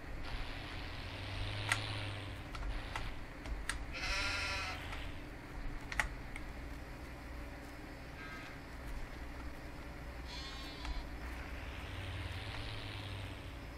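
Sheep in Farming Simulator 19 bleat in several short, faint calls spread across a low, steady background rumble of the game.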